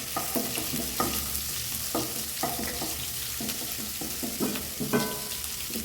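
Finely chopped garlic and ginger sizzle steadily in a couple of tablespoons of hot oil in a pan, with a constant loud hiss and periodic scraping stirs, no talking.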